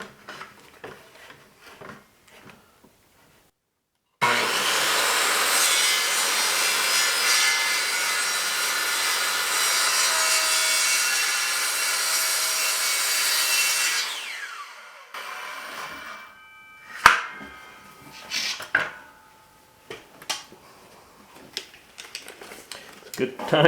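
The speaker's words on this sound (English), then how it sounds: "And now I'm just going to make a bunch of relief cuts along here" A saw makes relief cuts in wood while building a curved beam. A loud, steady cutting roar runs for about ten seconds, then gives way to scattered knocks and taps.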